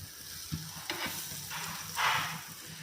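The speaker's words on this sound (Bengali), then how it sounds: "ব্রেডকে ভালো করে বাটারের সঙ্গে এপিঠ ওপিঠ সেঁকে নিতে হবে" Bread slices toast in butter in a frying pan, giving a soft, steady sizzle with a few faint scrapes and taps and one brief louder hiss near the end.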